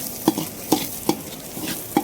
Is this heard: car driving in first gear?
no